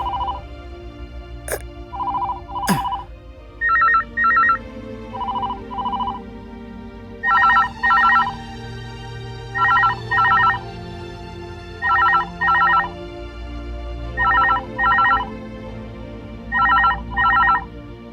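A telephone rings in repeated double bursts, a steady electronic trill sounding about every two and a half seconds, with a couple of sharp clicks early on.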